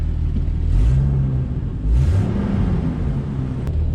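A 1998 Jeep Wrangler with a five-speed manual, revived after sitting for two years, rumbles through a neighborhood drive, its engine swelling in two short revving surges over a steady low idle-like growl.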